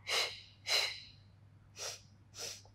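A person doing a Pilates mat exercise breathes forcefully through the nose, giving four short, close, hissing breaths in an even in-and-out rhythm with a brief pause in the middle.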